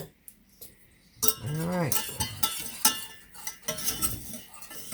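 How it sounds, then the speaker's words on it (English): A spoon clinks and scrapes against a bowl while a chili powder mixture is stirred, giving irregular close knocks and rattles under a man's speech. "I got to mix it for a minute."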